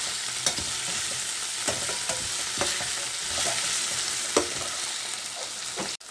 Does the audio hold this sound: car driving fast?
no